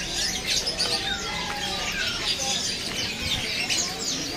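Many caged songbirds, including Mozambique canaries, magpie robins and green leafbirds, chirp and whistle continuously at a busy bird market. The calls overlap in a bright, constant chorus, with a voice talking underneath.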